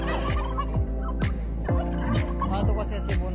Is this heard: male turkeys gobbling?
yes